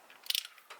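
A torque wrench ratchets on an injector hold-down bolt of a Cummins diesel: a quick, faint cluster of metallic clicks, close and brief, followed by one more light click.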